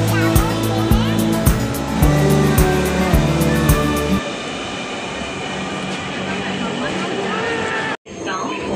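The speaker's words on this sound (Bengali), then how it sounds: "ট্রেন চলে আসলো আমাদের" A metro rail train pulls into a station on Dhaka's metro line, its loud rumbling and rolling noise filling the platform, with a tonal chime or music early on and people talking nearby before a brief drop near the end.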